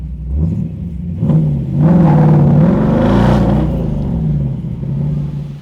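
A 1965 Ford Mustang convertible restomod's engine revs and rumbles up close as it rolls onto a lift, the throaty idle rising and then settling.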